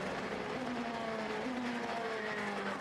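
A Le Mans race car brakes hard and downshifts through the gearbox with some rear locking, heard as a faint, distant engine note whose pitch steps down in several drops over a few seconds, with no talk.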